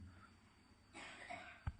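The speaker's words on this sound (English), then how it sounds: "There's a lady here who has a very bad cough." A woman in a lecture audience lets out a short, muffled cough from some distance away, set against quiet room tone.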